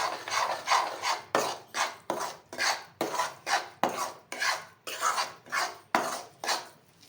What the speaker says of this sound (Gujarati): હવે આપણે આ મિલ્ક પાવડર નાખી દઈશું, હલાવી દઈશું